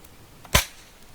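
A single sharp, quick pop from a small American exploding hammer firework, close and loud, fading quickly into quiet.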